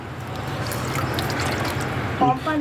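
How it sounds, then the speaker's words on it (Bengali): Water poured gently into a container holding fish, a soft steady splashing hiss that runs the whole time, with a voice briefly audible near the end. "তো পানিগুলো হালকা করে রেখে দেবো।"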